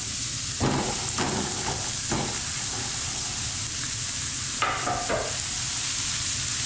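Onions frying in oil in a home kitchen pan for methi matar malai, a steady close sizzle with a few stirring scrapes and clatters breaking through, no talking.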